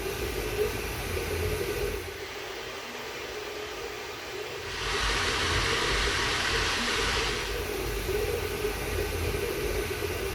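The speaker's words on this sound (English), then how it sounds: "this printer is louder than any of my other machines" An FLSUN S1 Pro 3D printer runs loudly with its doors open, giving a steady whirring and fan-like hum with a brighter, louder rushing stretch midway, and no talking.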